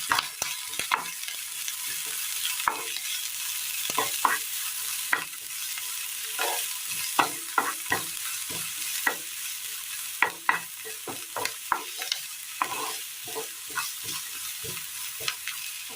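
Coconut pieces and finely chopped onion fry in a pan with a soft, steady sizzle, broken by frequent scraping and stirring clicks from a spoon.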